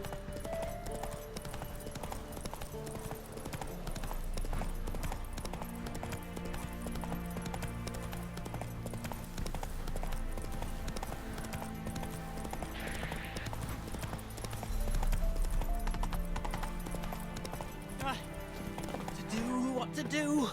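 Hooves of Geralt's horse Roach clip-clop steadily at a gallop across a Witcher 3 landscape, a continuous rhythmic beat under loud game music and ambience, with brief speech-like voices.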